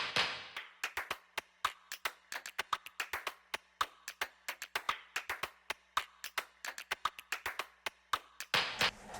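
Clap percussion sample in a pop mix, a crisp, dry series of rapid claps played alone in a syncopated pattern that follows the melody's rhythm, with a short burst of fuller sound at the end.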